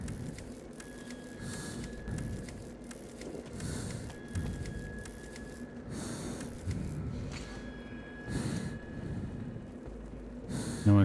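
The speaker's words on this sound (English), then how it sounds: "you're probably going to hear Artyom's heavy breathing a lot" Heavy, rhythmic breathing of the character Artyom in the Metro 2033 video game during a surface section, repeating in steady pulls through a gas mask against a low ambient hum, with a faint whine in the background.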